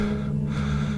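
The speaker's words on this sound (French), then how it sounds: "Je suis essoufflé, mais continue." A breathless gasp from someone running toward distant screams, dense and steady across the whole second, with no talk over it.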